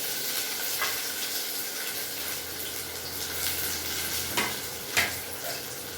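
Mustard and cumin seeds tempering in hot oil for pumpkin sambar, a continuous close sizzle with a few sharper pops and crackles near the end, no talking.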